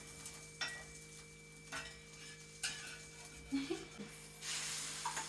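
Beaten egg for a Korean rolled omelette setting in a pan, a faint low sizzle with occasional soft scrapes and taps of a utensil, quiet and close, no talk.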